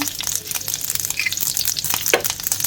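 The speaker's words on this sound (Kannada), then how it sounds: "ಸಾಸಿವೆ ಸಿಡಿಯೋವರೆಗೆ ಅದನ್ನು ಫ್ರೈ ಮಾಡಿಕೊಂಡು" Mustard seeds, curry leaves and pepper frying in hot homemade coconut oil for rasam: a busy, close crackling sizzle with rapid popping bursts throughout, no voices.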